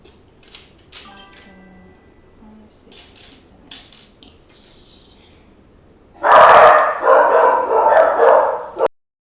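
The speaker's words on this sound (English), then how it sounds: "Barky Dogs are at it again." Dogs break into a loud, rapid burst of barking after a stretch of quieter background noises, then stop abruptly.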